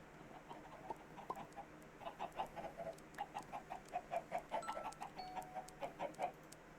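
Chickens in a Minecraft modpack farm cluck in quick, soft bursts, a run of short repeated clucks that grows more frequent toward the end, faint and with no talk.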